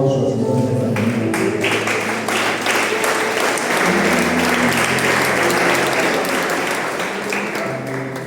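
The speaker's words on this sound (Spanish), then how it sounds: "En el nombre de Jesús, quiero una fuerte aplauso al Señor en esta mañana." A church congregation claps loudly and steadily in praise during a Spanish-language morning service, dense sustained applause filling the whole stretch.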